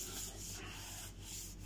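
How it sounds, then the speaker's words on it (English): Paper edges of a handmade architecture photo book being rubbed down by hand after gluing, a steady, close, continuous dry rubbing with slight swells, alone without talk. "I'll stick a bit of glue in there. And rub that down."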